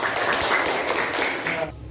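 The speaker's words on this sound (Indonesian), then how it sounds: "silakan tepuk tangan dulu untuk kelompok yang menulis" Classroom applause for a student writing group, a dense wash of many hands clapping steadily for nearly two seconds before cutting off abruptly.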